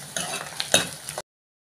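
Onions with ginger and green chili frying in a pan, a short close sizzle with spoon stirring and a sharp clink against the pan, then abrupt silence.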